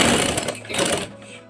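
A sewing machine stitches a soft ladies' collar with no buckram, producing a brief, loud, close whirring run that tapers off toward the end.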